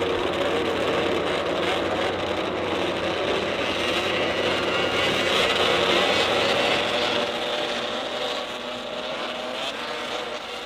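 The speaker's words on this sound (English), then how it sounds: "Ladies and gentlemen, start your engines." Snowmobile engines roar together in a dense, loud, sustained drone at the Canadian Power Toboggan Championships race, a field of sleds revving steadily before easing slightly toward the end.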